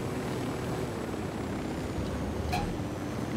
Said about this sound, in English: And everybody gets on the chopper.